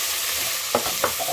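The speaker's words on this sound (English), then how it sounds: "I'm going to deglaze this with some wine." A lentil bolognese pan is deglazed with wine, giving a steady broadband sizzle with two brief louder bursts as liquid hits the hot pan, close and unbroken by voices.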